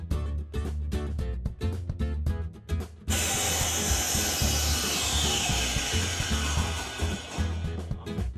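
Carpenter crew's saw cutting wooden trim for cabinets and a staircase: a rhythmic rasping stroke pattern gives way to a loud continuous whining cut, up close.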